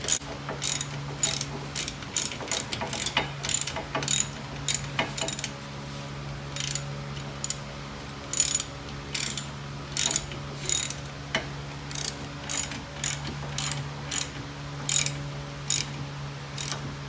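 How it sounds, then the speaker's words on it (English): A hand ratchet with a 14mm socket clicks in repeated quick bursts while tightening the harness bar bolts on a 2020 Kawasaki Teryx4 UTV, crisp and close with short pauses between strokes. "same 14mm socket, and start cranking these down"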